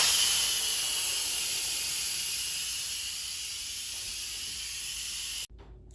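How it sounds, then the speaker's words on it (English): Steam rushes out of an Instant Pot pressure cooker during a quick release after cooking Brussels sprouts, a loud, steady high hiss that fades slightly over several seconds before cutting off abruptly. "so let's quick release the steam."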